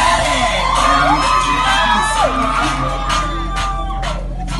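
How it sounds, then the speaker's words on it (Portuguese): Women on a boat ride shout, whoop and cheer together in a loud, sustained burst of crowd noise, with high excited voices layered over one another. "Gritem, mulheres!"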